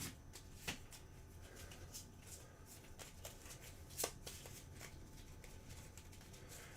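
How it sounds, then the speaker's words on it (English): A deck of cards shuffled in the Stars of Akarios video game, with soft, quick riffling flicks and a few sharper snaps over a quiet, steady background. "the deck gets shuffled again as I put in another miss"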